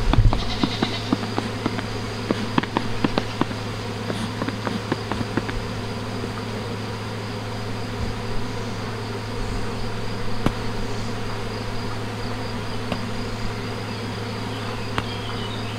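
A feral, queenless honeybee colony buzzes close by in a steady, dense drone. Scattered clicks and handling noises sit on top, and nobody speaks.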